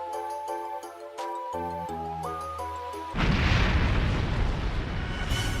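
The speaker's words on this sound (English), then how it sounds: "Just then a dreadful bang was heard, a boom, a crash, a rumble." A loud explosion erupts midway, a dreadful bang with a crash and deep sustained rumble following a passage of music, the noise staying loud to the end.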